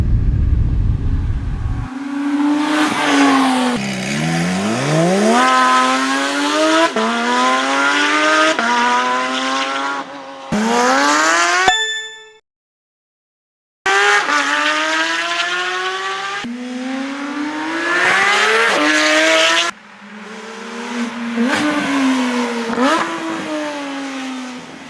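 Porsche 992 GT3 fitted with an aftermarket exhaust, revved hard in repeated rising, high-pitched screaming bursts that fall back between pulls, with a brief near-silent gap midway; loud and close, no talking.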